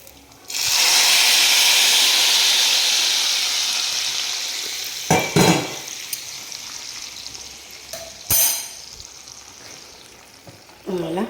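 Ghee-roasted cashews poured into a dish, setting off a loud hot sizzle that slowly fades, followed by a few sharp clinks and scrapes of the pan or spoon.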